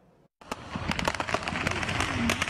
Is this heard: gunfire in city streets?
yes